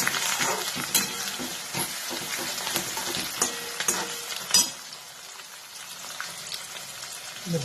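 Chopped onion and curry leaves frying in a pan for a leftover bhakri chivda, a loud close sizzle with scraping stirs and clinks throughout, no voices.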